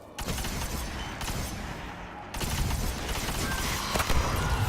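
Necrochasm exotic weapon in Destiny firing a steady burst of automatic shots, with punchy repeated reports and explosive booms that continue through the whole stretch at close range.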